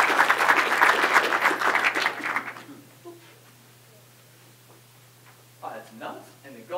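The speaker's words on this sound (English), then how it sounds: "Give him a round of applause." Conference audience at a tourism event in Central Australia gives a loud burst of applause that fades after about two and a half seconds, followed by quieter room noise and then people talking.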